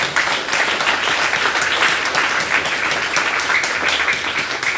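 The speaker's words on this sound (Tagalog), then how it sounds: "Palakpakan po natin ang ating Diyos." A church congregation claps together in sustained applause during a Sunday communion service, a dense, even wash of hand claps that holds steady at close range throughout.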